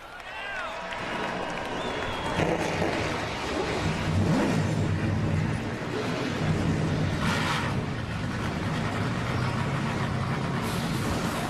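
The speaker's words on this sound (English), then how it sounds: "The engines are fired up." NASCAR Camping World Truck Series race trucks fire their engines at the start of the Heluva Good! 200, a dense rumble and revving under a crowd's noise and clapping, steady and loud throughout.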